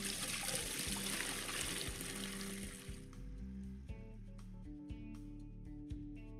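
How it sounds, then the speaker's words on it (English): Water trickling and splashing as a hose drains an aquarium in an aquarium simulator game, a steady watery stream that thins into scattered drips and light plinks, moderately faint. "While holding the bucket, click on the hose to get the water out of the aquarium"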